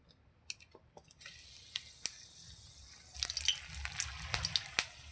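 Four dried red chillies drop into hot oil for tempering, giving soft crackles and pops that build into a fuller, spitting sizzle, fairly quiet and close.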